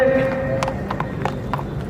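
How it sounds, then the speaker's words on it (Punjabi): Hooves of a Nukra horse, a display horse descended from the Akbar Sultan line in Punjab, clop in a loose rhythm of distinct close knocks over steady background noise and a faint hum. "ਇਹ ਨੁਕਰਾ ਘੋੜਾ ਜੋ ਤੁਸੀਂ ਦੇਖ ਰਹੇ ਹੋ"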